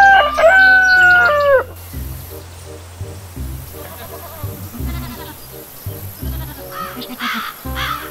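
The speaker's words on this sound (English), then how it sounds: "My roosters." A rooster crows loudly and close, then quieter clucking and scattered farmyard bird calls follow.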